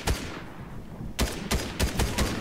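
Gunfire in Fortnite: one sharp shot followed after a pause by a rapid run of five or six loud, close cracks, no talk over them.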